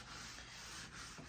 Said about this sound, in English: sanding down between coats of stain to get the finish to be smooth